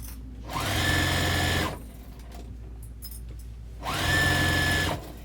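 A sewing machine stitches across the bottom seam of a vinyl tote bag with fusible fleece in two close, loud bursts of rapid whirring separated by a pause of quieter handling sounds.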